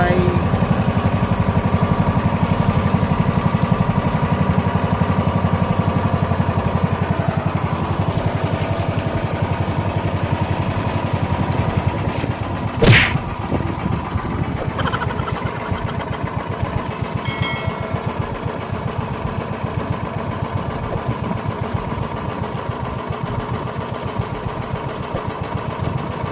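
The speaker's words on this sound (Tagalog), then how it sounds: "pinatay ng makina" A small engine idling steadily and fairly close for a long stretch, a rough continuous mechanical drone with a sharp click partway through, faint voices in the background.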